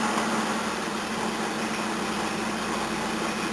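A Toyota 18R-C four-cylinder engine idles after a tappet adjustment, a steady close mechanical drone with an even hum and no variation in loudness, no voices.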